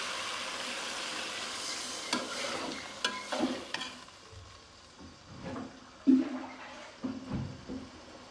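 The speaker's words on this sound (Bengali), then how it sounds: "এখন দিয়ে দিচ্ছি জল।" Water poured into a frying chopped-tomato mixture in a pan for a koi fish curry, giving a loud hissing surge that settles into softer bubbling with scattered stirring knocks and clatters, no voices.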